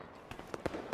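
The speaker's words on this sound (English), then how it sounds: "Dazzling fireworks bloom in the night sky." Fireworks bursting over an amusement park at night in a video game, a quick run of faint crackling pops and thuds spaced irregularly at a distance.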